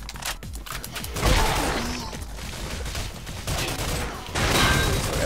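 Rapid bursts of gunfire and explosive impacts from the video game Crash Commando, with dense overlapping shots and blasts that rise and fall in loud clusters.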